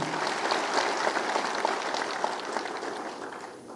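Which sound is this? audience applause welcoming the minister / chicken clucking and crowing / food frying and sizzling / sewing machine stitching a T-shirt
audience applause welcoming the minister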